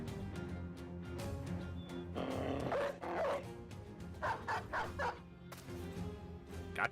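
A dog barks in the video game Battle Brothers, a series of yips and barks in clusters amid game sounds, moderately loud and close.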